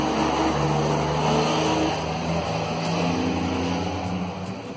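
Steady street traffic noise with a loud, rumbling vehicle engine, most likely a passing truck, dominating throughout and fading slightly at the end.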